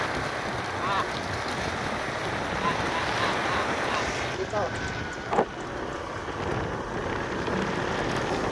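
Steady rain hisses and patters on a surface, a dense constant wash with a few faint knocks in the background.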